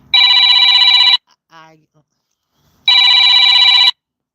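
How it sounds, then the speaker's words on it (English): A mobile phone rings in two loud electronic bursts about a second long each, separated by a pause of quiet with a brief murmured voice between them. "My phone rang."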